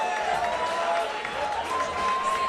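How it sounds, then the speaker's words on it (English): Crowd applause and cheering at a live fight event fill the space, a steady wash of clapping with a faint tone running underneath. "Big round of applause, ladies and gentlemen."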